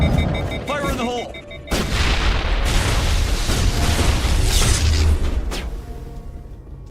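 A grenade blast followed by sustained gunfire in the video game Mass Effect Legendary Edition, loud and dense with a sharp burst near the start, then continuous combat noise that fades out at the end.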